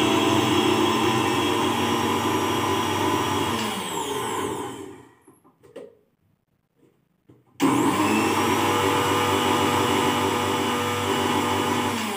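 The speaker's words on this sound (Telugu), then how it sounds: "సో ఈ షుగర్ కూడా గ్రైండ్ చేసుకోవాలి" A mixer grinder grinds sugar into powder for an ariselu sweet, running as a loud steady whir that cuts to near silence for about three seconds before restarting at full strength.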